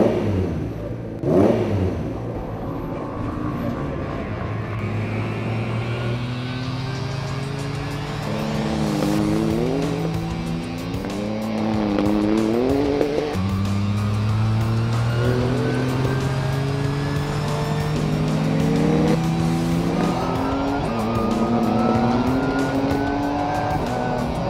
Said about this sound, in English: Matt's just driven the GT3 car for the first time